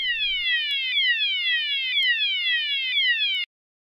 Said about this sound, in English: Let me trigger an alarm